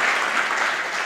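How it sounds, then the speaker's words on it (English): Brief burst of audience clapping at a university international day celebration, a short dense patch of applause lasting about a second. "Also an applause."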